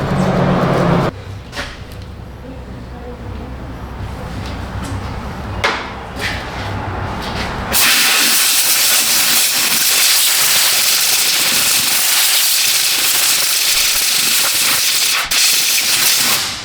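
A compressed-air blow nozzle blasts a loud, steady hiss to clear caked-in junk, with short bursts early on before a long continuous blast that runs to the end.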